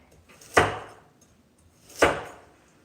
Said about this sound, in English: just chopping your carrots like this